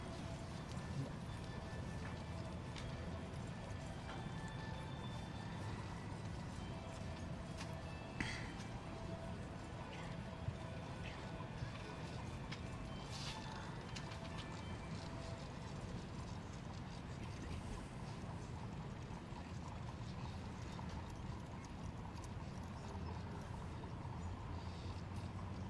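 Horses trotting with hooves clip-clopping at a combined driving event in Kentucky, a carriage pulled through a dressage movement; steady outdoor hoofbeats under a continuous background wash of crowd and ambience.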